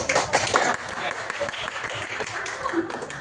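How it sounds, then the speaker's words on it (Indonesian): A classroom group of students clapping in a quick, dense burst of applause for a group's work, fairly close and steady throughout, with faint voices mixed in. "Bagus, kasih tepuk tangan."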